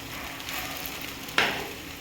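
Bombil fish fries in oil in a pan on low heat, a steady soft sizzle with a brief sharper crackle partway through, close and continuous.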